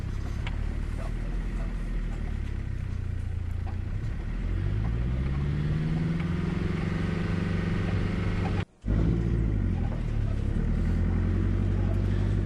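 A 4WD vehicle drives a wet, muddy bush track on the way from Mt Wellington to Wonnangatta, its engine droning loud and steady, revving up and down with gear changes and cutting out for a brief moment.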